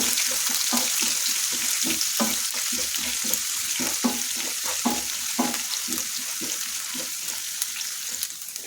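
Onions and green chillies frying in oil in a pan for lemon rice, a steady sizzle punctuated by frequent rhythmic scraping stir strokes, close and alone without talk.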